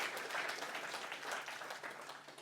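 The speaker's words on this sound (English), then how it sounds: "Maybe one more big round of applause for those guys." Audience applause for guests at a mental health conversation event, a soft, even wash of many hands clapping together, distant and fairly quiet throughout.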